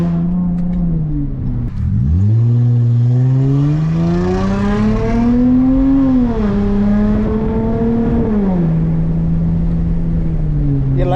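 A Volkswagen GTI engine idles loudly close by, then is revved twice, the tone rising in a long climb and falling back to a steady idle drone.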